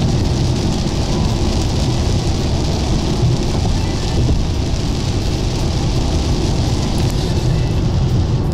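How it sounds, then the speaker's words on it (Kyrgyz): Heavy rain hammers steadily on a car during a hard downpour, a dense, unbroken roar of drumming drops on the roof and glass with a low rumble underneath, loud and close for the whole stretch. "Жамгыр жестко жаап атат."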